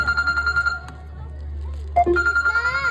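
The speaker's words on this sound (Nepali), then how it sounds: "आन्टी, फोनको घन्टी बज्दैछ, उठाउनुहोस् न।" A telephone in a school awareness drama rings with a repeating melodic electronic ringtone, clear and close. It breaks briefly for a short voice, then resumes.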